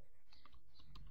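Quick burst of computer keyboard keystrokes as a URL is typed, several soft close clicks in an irregular patter.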